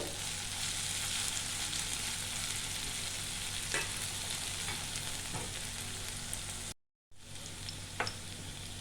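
Chopped capsicum sizzles steadily in a hot pan, a dense continuous fry with occasional stir scrapes, briefly cut to silence near the end before the sizzling resumes.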